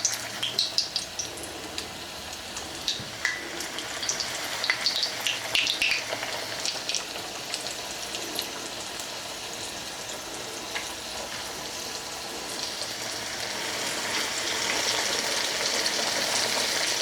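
Chicken fries in hot oil in a stainless steel skillet, a dense steady sizzle with crackling pops and spatters, close and continuous, swelling louder near the end, no voices.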